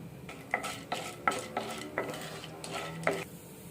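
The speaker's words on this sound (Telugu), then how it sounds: "స్టవ్ ఆన్ చేసుకొని ఒక ప్యాన్ పెట్టుకున్నాము. కొంచెం ఆయిల్ వేసుకున్నామండి" Chana dal tossed in a little oil in a pan on a stove, heard as a series of about seven rhythmic metallic scrapes and clinks of a spoon against the pan over a quiet sizzle.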